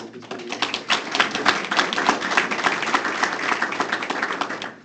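A legislative update audience in Southern Nevada bursts into sustained applause welcoming a speaker, a dense, steady wash of clapping lasting several seconds.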